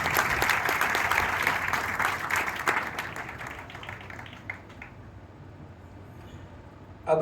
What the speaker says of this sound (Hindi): एक बार इनके इस प्रयास को तालियों से हम अभिवादित करेंगे।